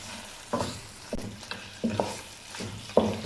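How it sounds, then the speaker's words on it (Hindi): Tomatoes frying in a pot for mutton pulao give a close sizzle broken by five or six sharp scraping stirs at a steady, unhurried pace. "तकरीबन 1 मिनट के लिए टमाटरों को भुनेंगे।"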